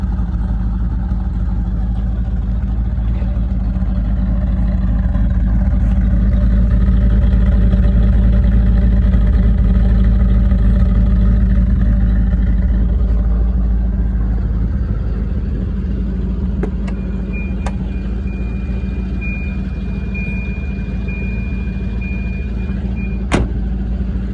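A V8 swapped into a Volvo idles steadily with a deep low rumble for the whole stretch, with a thin high beep and brief clicks toward the end.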